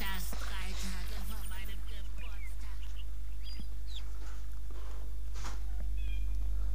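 A domestic cat meows a few times in high, wavering calls near the start, fairly faint, over a steady low electronic hum and background computer game sounds.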